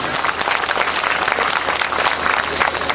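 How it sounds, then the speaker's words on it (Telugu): A crowd at a public gathering in Kautala, Asifabad district, breaks into sustained applause, a dense, even wash of clapping from many hands that holds steady for the whole stretch, with faint voices mixed in. "వాళ్ళందరికీ గట్టిగా చప్పట్లు కొట్టండి"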